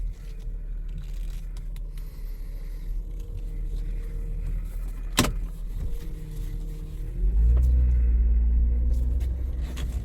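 A car engine idles in a workshop, a low steady rumble with a brief sharp click midway and a louder, deeper surge of engine noise near the end.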